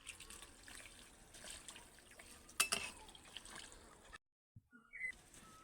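Water poured into a cooking pot after the spices and curd have been sautéed, a soft trickling splash with a sharper clatter midway, then a sudden drop to near silence and a few faint clicks.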